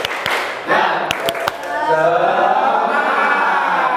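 A class doing the rhythmic 'tepuk semangat' clap: a few crisp claps in a patterned rhythm, then a group of voices chanting loudly together as the clapping fades out.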